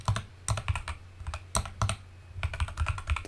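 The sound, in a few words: typing on a computer keyboard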